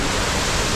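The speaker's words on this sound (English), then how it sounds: "as the waves crash on the ocean, they're piped up and they crash right up here too" Seawater from ocean waves piped into an aquarium's wave crasher exhibit surges overhead as a steady, loud, broadband rush of water, continuous throughout with no voices.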